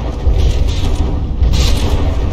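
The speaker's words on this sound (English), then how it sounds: "All kinds of explosions" Heavy shell explosions in the naval battle game From the Depths, a battleship duel, roll as deep, loud overlapping booms and rumbling blasts that swell twice in quick succession with no voices.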